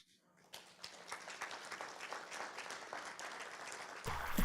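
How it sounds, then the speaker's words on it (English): Audience applause at a Friday-evening Shabbat service, building steadily from scattered claps into sustained clapping with a louder swell at the end. "I don't know if you heard everybody applauding to you"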